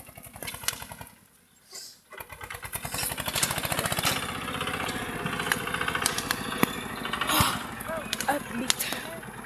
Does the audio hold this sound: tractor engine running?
yes